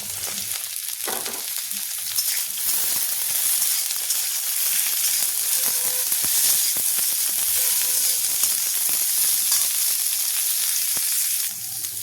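Carrots, beans and capsicum stir-fry in an open, uncovered pan for fried rice, giving a steady, close sizzle with scattered scraping and stirring clicks throughout, no voices.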